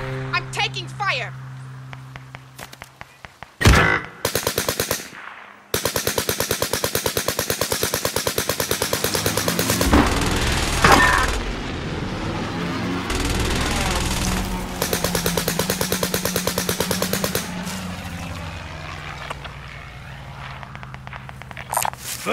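Gunfire in the video game Warzone Pacific: dense bursts of rapid automatic shots over about twelve seconds, with single loud reports, game voice lines and rumbling effects around them.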